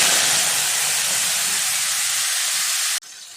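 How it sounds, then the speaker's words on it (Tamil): Loud, steady sizzling hiss of ground masala paste frying in hot oil for pea and potato kurma, continuous and close, cutting off abruptly near the end. "அரைச்ச விழுதை சேர்த்துட்டு இந்த எண்ணெயிலேயே நல்லா வதக்கிடலாம்."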